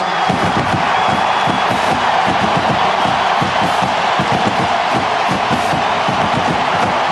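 Cold-weather crowd at the 2003 Florida State vs Florida college football game yelling and roaring in a dense, continuous wall of sound, with muffled clapping from mittened hands underneath.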